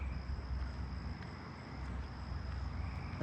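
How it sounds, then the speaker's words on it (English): A southeastern field cricket sings steadily at a distance in a neighbourhood at night, a faint continuous high-pitched trill over low background rumble. "And over there is where the southeastern field cricket is."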